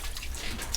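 Gravel screen being washed in water while hunting for diamonds at Canary Hill, Crater of Diamonds State Park; soft continuous sloshing and dripping water, faint and steady throughout, with no voices.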